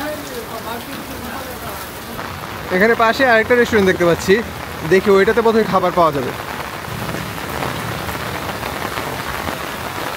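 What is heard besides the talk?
rain falling on a restaurant roof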